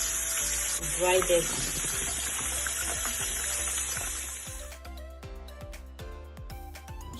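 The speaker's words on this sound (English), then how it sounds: "I'm going to rinse this" Water runs over plant cuttings as they are rinsed, a steady gushing stream in the first part that then stops, leaving quiet background music, with a voice speaking briefly.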